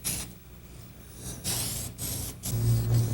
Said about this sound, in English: Press the spray button all the way down and paint in several steady, even strokes.